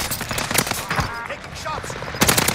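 Gunfire in a battle royale video game, Rebirth mode, with bursts of rapid shots scattered through the clip at moderate loudness, heavier near the end, alongside game voice lines.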